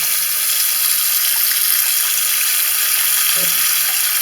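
Water from a tap runs hard and steadily into a clogged, slowly draining bathroom sink, a loud, even gushing hiss close to the microphone with a brief low knock near the end.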